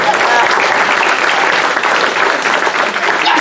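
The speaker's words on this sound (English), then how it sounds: "How about giving her a round of applause" Comedy-show audience applauding in a dense, steady wash of clapping that holds at a loud, even level for a few seconds, with no voice over it.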